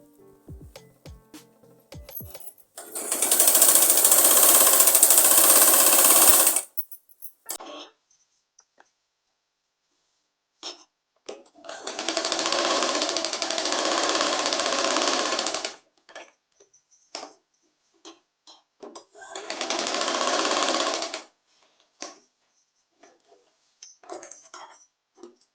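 A sewing machine stitches a double seam along the shoulder and neckline of a girl's umbrella frock, running in three steady bursts of several seconds each with quiet pauses between.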